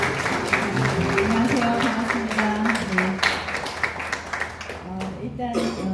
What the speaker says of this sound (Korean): 우리 문미혁 차관님 큰 박수로 환영해 주십시오.